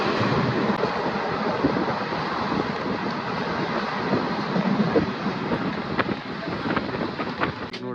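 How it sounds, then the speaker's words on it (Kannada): Inside a crowded general-class passenger train running from Kashi to Ayodhya, a loud continuous rumble and roar of the moving carriage fills the whole stretch, with faint clicking rail joints near the end. "ಟ್ರೈನ್ ಸ್ಟಾರ್ಟ್ ಆಗಿದೆ"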